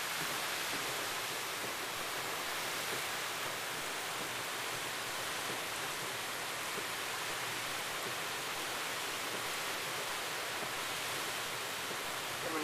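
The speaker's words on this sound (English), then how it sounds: "Look at it coming down the creek." Flood water rushes down a creek wash beside a house, a loud, constant broadband roar like a waterfall that fills the whole stretch without pause or voices.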